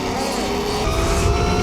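A KOOZ HP131E 72V electric bike ridden fast, giving a brief, steady rush of wind and motor whine with broadband road noise, close and loud throughout.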